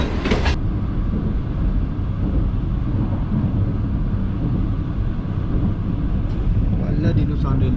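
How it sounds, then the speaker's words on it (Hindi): The 34 Down Business Express passenger train runs between Karachi and Lahore with a loud, steady rumble and roar of wheels on track, heard close and continuous throughout. "तो ये है 34 down park business express, Lahore और कराची के दरमियान चलने वाली।"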